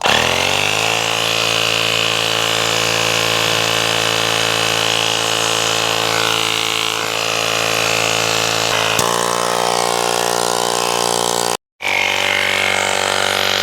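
An Auxito A301 smart electric pump inflates a car tyre from low pressure, its motor producing a loud, steady buzzing drone that runs continuously, with a slight change in tone midway and a brief cutout near the end.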